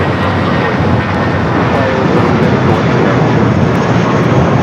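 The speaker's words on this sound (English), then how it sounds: "Next takeoff is a flight, that A320 with American, the old America West A320, I believe heading back to Phoenix." An American Airlines Airbus A320 takes off from the south side at LAX, a loud, steady broadband jet roar filling the whole stretch with no break.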